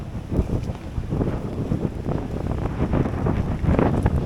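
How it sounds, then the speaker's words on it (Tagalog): Strong typhoon wind roars and buffets the microphone in a loud, constant rumble with no let-up. "Lakas ng hangin, lakas ng hangin."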